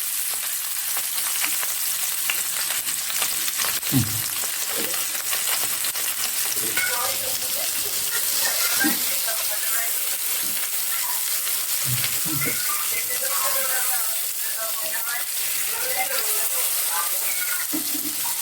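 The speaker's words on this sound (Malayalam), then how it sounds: "അങ്ങനെ നമ്മുടെ മീനിൻ്റെ ഒരു സൈഡ് ഫ്രൈ ആയി വന്നിട്ടുണ്ട്" Marinated mackerel frying in a pan for banana leaf pollichathu makes a dense, steady crackling sizzle, close and constant, with a few soft low knocks and faint bubbling in the background.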